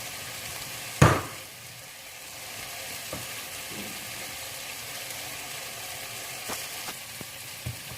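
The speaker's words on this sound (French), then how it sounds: "Je l'assaisonne également avec un petit peu de sel, un petit peu d'origan toujours, un petit peu d'huile d'olive également. Et je laisse mijoter jusqu'à cuisson" Meat seasoned with salt, oregano and olive oil simmering in a pan for pizza: a soft, steady sizzling hiss, with a sharp knock near the start and a few faint clicks later.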